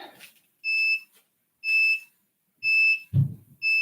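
A workout interval timer at an adult Hapkido class beeps in steady, evenly spaced electronic tones, four bright beeps in a row, with a brief low thump between the last two.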